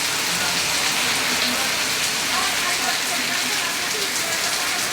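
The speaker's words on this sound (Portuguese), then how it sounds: "É chuva e vento." Heavy rain driven by wind pours steadily at night along a seaside promenade, a dense, constant hiss of rainfall beating on surfaces without letup.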